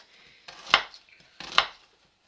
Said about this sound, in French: on va couper les oignons. Donc en petits, en fines lamelles, ça suffira